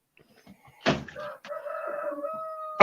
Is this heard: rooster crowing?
yes